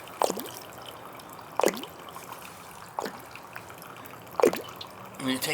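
Intermittent gurgling water draining from a gas boiler's expansion tank, four distinct bubbling glugs spaced a second or so apart over a quiet background hiss.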